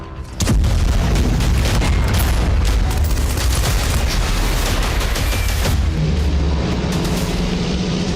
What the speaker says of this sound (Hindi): भारतीय सेना के पास अब 155 mm ultra light howitzer M777 gun भी है।